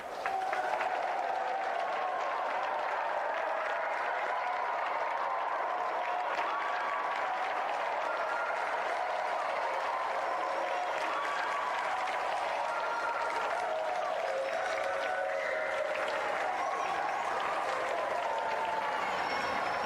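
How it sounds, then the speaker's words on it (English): A large television game show studio audience applauds a challenger steadily for about twenty seconds, a dense wash of clapping that stays even and sustained throughout. "Give a round of applause for our challenger."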